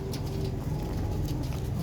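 Large pigeons coo low and soft in a continuous murmur, with faint rustling in the background and no speech.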